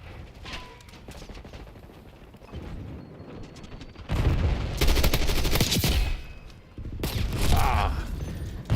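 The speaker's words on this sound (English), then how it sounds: "HVT is taking fire." Video game gunfire in a protect-the-target mission, with quieter distant shots at first, then loud sustained automatic fire in two long bursts, and radio-style voices heard faintly in between.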